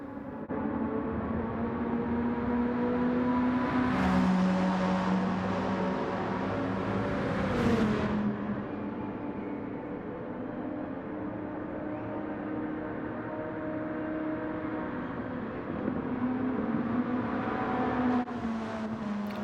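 An Amuse S2000 tuned road car in Gran Turismo 7 racing on track, its engine note rising and falling through several gear changes, with a steady drone and sharp whooshes as other cars pass close by.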